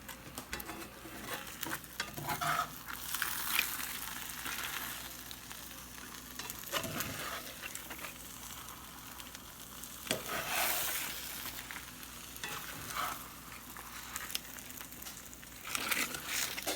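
Fried tortilla chips are stirred through red chilaquiles sauce in a pan, with soft scraping, wet crunching and a quiet sizzle rising and falling in uneven strokes.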